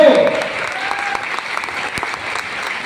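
Audience applause at an anniversary program for a direct-selling business, a dense, steady patter of many hands that starts strongest and then holds at an even level, with some talk under it.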